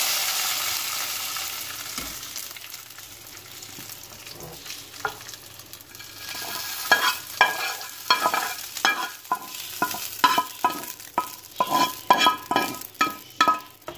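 Hot oil tempering sizzles as it hits cooked mustard greens for sarson ka saag, followed by steady stirring and clinking of a utensil against the pan, close and without talk.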